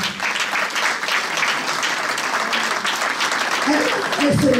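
An audience at a Brussels charity gala applauds Maman Mireille, sustained warm clapping from a large crowd, with a speaker's voice starting up over the tail of it near the end.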